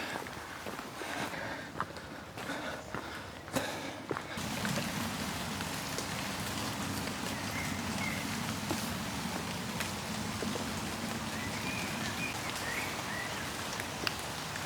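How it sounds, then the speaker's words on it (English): Steady rain patters softly and continuously under pine trees, with a few scattered louder drips and taps near the start. "It is still raining."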